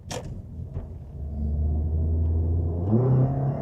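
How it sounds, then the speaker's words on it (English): A 10-year-old Toyota Corolla engine rises from idle into a hard, droning rev under acceleration, heard from inside the car as a steady, loud rumble climbing in pitch, with a couple of faint clicks at the start. "Oh, this engine is loud when you start to put your foot into it."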